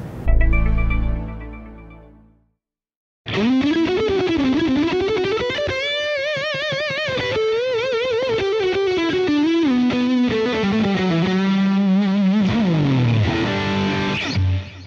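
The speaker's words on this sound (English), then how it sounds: "the sweet sound of juicy vibrato on top of a big-ass bend" An overdriven electric guitar played through a Fractal Audio Axe-Fx III rings out, then a note bends up and wavers with wide vibrato, sustaining loudly before sliding down at the end.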